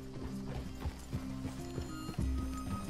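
Horses clip-clop in Red Dead Redemption 2, a steady series of hoof thuds close by with a few heavier steps near the end, over low ambient rumble.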